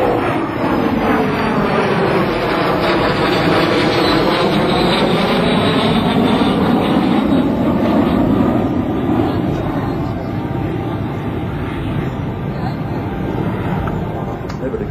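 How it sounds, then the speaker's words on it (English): An L-39 jet at an air show at NAS/JRB Willow Grove roars past in a rolling pass, its engine noise swelling and sweeping steadily for the full duration, loud and continuous, with an announcer speaking over it. "From the left, once again, ladies and gentlemen, the L-39, Alan Smith, rolling it in the 4 point"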